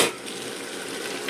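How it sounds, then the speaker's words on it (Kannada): Chicken goes into a hot pan of cooked-down tomatoes for a biryani and sets off a close, steady sizzle of frying with faint stirring. The burst is brief, and no one talks over it. "ಈ ಟೈಮಲ್ಲಿ ನಾನಿವಾಗ ಚಿಕನ್ ಹಾಕ್ಕೊಳ್ತೀನಿ"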